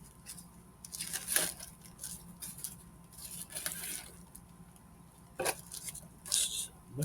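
Factory-sealed tissue paper is pulled off a Lionel model train box, giving crinkly tearing and rustling bursts that come in irregular spurts against a low background hum.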